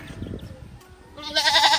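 Anglo-Nubian goats on a farm, with a bleat rising loud and close in the second half over low background rumble and scattered animal noise.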